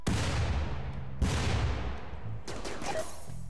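Bursts of gunfire in the colony-sim game RimWorld, a few heavy volleys and shots spread across a few seconds, loud and close against a busy battle background.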